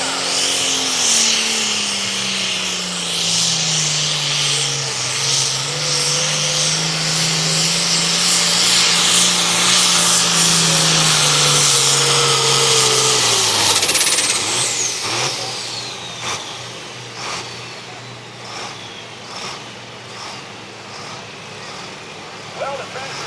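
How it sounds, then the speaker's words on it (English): A pulling tractor's engine roars loud and close at a truck and tractor pull, its pitch sliding down and then climbing as it strains, before cutting back and fading into crowd noise and an announcer's voice. "the tractor never really got up on that RPM rating like it's going to go"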